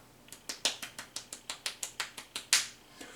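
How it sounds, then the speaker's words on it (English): Slow, soft single claps spaced evenly, about a dozen sharp light hits in a row, close and quiet with no voices. "So, golf clap. Golf clap."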